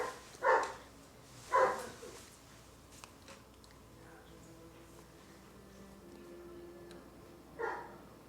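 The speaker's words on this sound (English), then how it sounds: "Barking Moblin." Dog barking standing in for a Moblin creature in a Legend of Zelda fan film: three loud, sharp barks, two close together early and one near the end, separated by quiet ambience with no talk.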